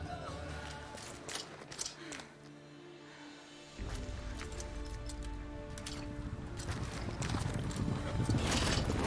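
Horse hooves clip-clop through The Witcher 3 game world, a steady rhythmic trot at moderate distance, continuing under a dense bed of game music and ambience that grows louder partway through.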